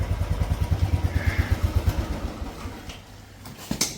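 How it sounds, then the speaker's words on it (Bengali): A motorcycle idles nearby at the start of a road trip, its single-cylinder thump beating in a quick, even rhythm for about two seconds before fading, followed by faint clicks and a brief clatter. "আজকে এই দুটো বাইক যাচ্ছে, রনিত ভাইয়ের বাইক আর এটা আমার"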